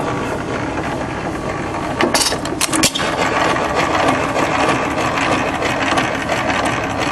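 A 3 HP Hercules stationary engine, started from cold, runs with a steady close chugging beat, broken by a burst of sharp knocks and rattles partway through.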